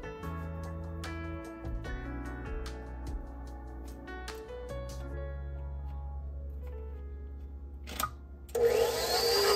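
An electric mixer whirs steadily as lemon juice is beaten into pound cake batter, running continuously under soft background music, with a brief louder burst near the end.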